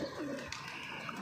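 Soft pigeon cooing from pigeons perched on netting, with faint bird calls over a steady low background hum, fairly quiet and continuous.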